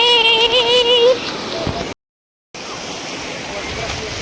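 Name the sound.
ocean waves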